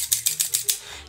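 Five quick, evenly spaced snips of scissors, crisp and close, with a faint low hum underneath.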